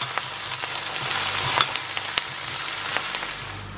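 Spices and salt are stirred into a masala in a frying pan for a mince curry with peas and potatoes, a soft steady sizzle broken by light scraping strokes of the spoon.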